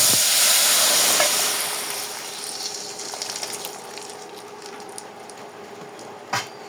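Mashkalai lentils browned in a pan hiss and sizzle loudly as bottle gourd vegetables go in. The steamy crackle fades to a softer simmering hiss, with a brief clatter near the end and no talking.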